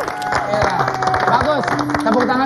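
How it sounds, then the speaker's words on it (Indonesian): Studio audience clapping on an Indonesian comedy show, brisk applause running beneath a host's loud talk and music throughout. "Kasih tepuk tangan dong."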